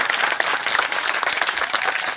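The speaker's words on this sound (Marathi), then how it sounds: "घुसिंगे साहेबांसाठी एकदा जोरदार टाळ्या वाजवूया" A crowd at a village school event claps warmly for a guest, making a dense, loud applause that holds steady throughout.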